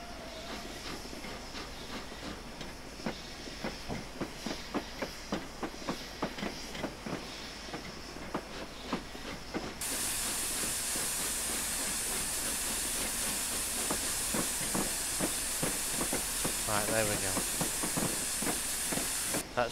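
The Flying Scotsman steam locomotive backs into a station platform, with steady rhythmic clicking of wheels over rail joints and a constant hiss of steam that grows louder and broader halfway through. No one speaks.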